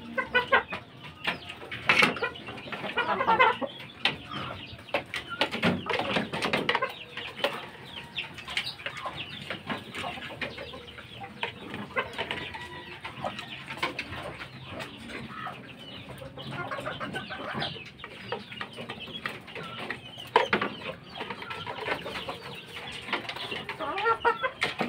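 Fighting roosters clucking and calling in a yard, a busy, continuous mix of close and farther clucks with occasional wing flaps, fairly loud and without talk.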